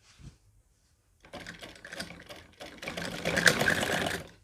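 Sewing machine stitching the back neck of a kameez: a short burst, a pause, then steady fast mechanical whirring that builds louder and runs continuously to the end, close up.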